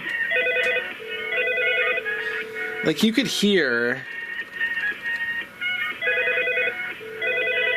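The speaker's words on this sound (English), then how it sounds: "So here's the phone ringing." A Norstar IP phone rings through its speakerphone in repeated electronic trill bursts, loud and slightly tinny, with someone talking over it.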